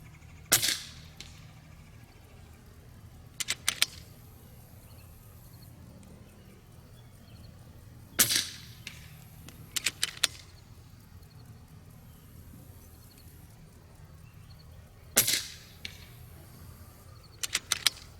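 An FX Crown .30 PCP air rifle firing at targets at range, with sharp, loud single cracks spaced several seconds apart, each followed by faint clicks and handling noises between shots, over a quiet outdoor background.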